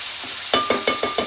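Mutton dropped into hot oil in a pot for a mutton curry gives a steady close sizzle, broken by five evenly spaced louder bursts of frying and stirring.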